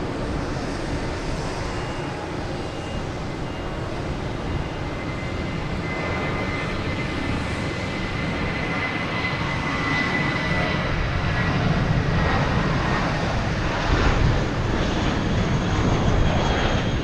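A JetBlue airliner at Logan Airport roars steadily as a broad, loud engine rumble that swells slightly toward the end, with no talk over it.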